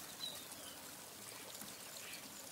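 A small river runs steadily along its bank, a soft, continuous trickling wash heard faintly and evenly throughout with no voices.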